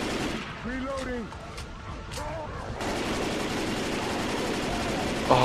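Left 4 Dead 2 gunfire: a dense, continuous burst of shooting fills the second half, after a stretch where a voice and tonal game sounds play over rumbling noise.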